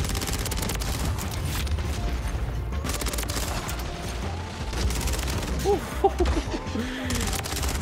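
An ISO 9mm submachine gun in Call of Duty MW3 fires in rapid rattling bursts with mechanical clatter, fairly loud and continuous, with a few sharper shots and brief voice sounds near the end.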